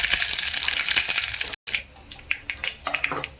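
Asafoetida goes into hot oil for Maharashtrian dahi kadhi and sets off a bright, steady sizzle, which cuts out briefly and then returns as scattered crackles and pops.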